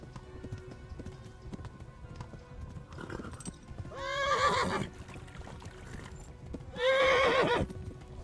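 In the Kingdom Come Deliverance video game, a horse gives two loud, close whinnies over a muffled background of hoofbeats and ambient noise.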